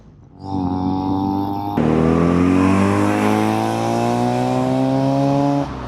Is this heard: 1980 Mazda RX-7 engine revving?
yes